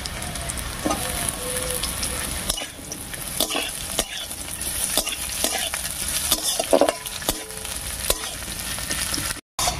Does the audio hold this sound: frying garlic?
yes